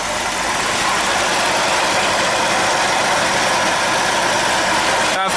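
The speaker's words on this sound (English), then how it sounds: "Just fired up the engine, warm up everything, make sure there's no leaks." A 1980s car engine idles after a radiator replacement, a steady broadband rumble held at constant loud level throughout, with no voices and a brief dropout right at the end.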